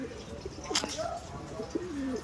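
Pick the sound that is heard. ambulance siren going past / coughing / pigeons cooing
pigeons cooing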